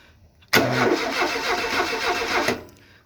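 A VW Super Beetle with a 2110cc stroker engine cranks and catches, running loud and close for about two seconds with a busy, rough mechanical rattle before cutting off abruptly.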